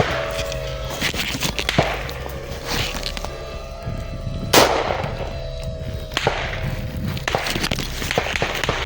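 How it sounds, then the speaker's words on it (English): Sharp gunshots from Russian soldiers firing at a drone crack at irregular intervals, one especially loud, over a steady rumbling background, with some shots sounding more distant. "Gunshots are also heard from other Russian soldiers. They are trying to shoot down the drone."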